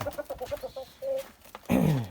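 Chickens, including moulted Leghorns, cluck nearby in a quick run of short clucks, then a louder, drawn-out squawk near the end.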